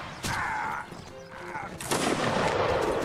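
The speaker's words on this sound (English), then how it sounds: "I just pulled off an incredible shot." Gunfire in the video game Mount & Blade: Napoleonic Wars: a sharp shot cracks early, and a louder blast follows with a sustained rumbling tail, among in-game battle noise.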